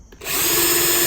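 A power drill whirs up to a steady high-pitched spin as it turns a brake caliper pin against a Scotch-Brite pad, starting after a brief quiet moment and staying loud and close.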